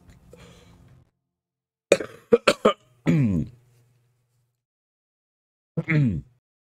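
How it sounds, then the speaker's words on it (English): A person coughs during a gaming stream: a brief low murmur, then a quick burst of several sharp close coughs, a longer harsh cough, and one more cough after a pause. "y'all didn't have to hear me cough"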